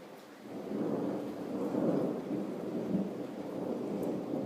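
Low rolling thunder rumbles steadily through a rainstorm, a continuous deep roar with slow swells and no talking.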